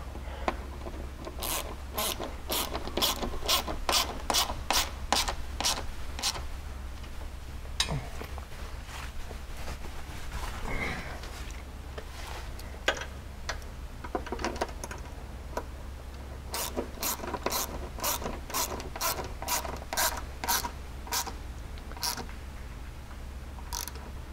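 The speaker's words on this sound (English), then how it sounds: "And just grab that nut with the wrench and tighten it down." A 10mm wrench and socket ratchet tightening a nut on UHMW skid plates under a Polaris RZR, rapid clicking bursts in runs with pauses and soft handling noises between, close and without talk.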